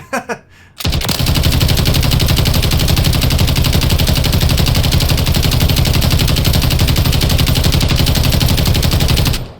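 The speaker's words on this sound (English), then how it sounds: "I didn't have to shoot off all the rounds there, but I did anyway" An FN EVOLYS 7.62 machine gun in MWIII unloads one long, unbroken burst of rapid, loud, even gunfire lasting several seconds after a short quiet lead-in, with no pauses until the belt runs dry.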